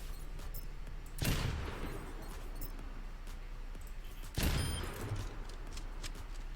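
Two sniper rifle shots ring out in the Overwatch shooter, each a sharp, loud crack with a short echo, about three seconds apart over quiet game ambience.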